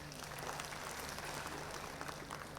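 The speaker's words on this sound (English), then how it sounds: "A big round of applause." Steady applause from an audience at a corporate conclave, a dense wash of clapping held at an even level throughout with no voices over it.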